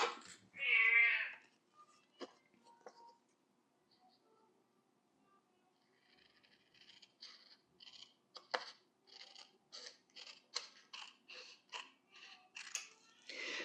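A brief cat meow, then a steady run of crisp, close scissor snips cutting through paper.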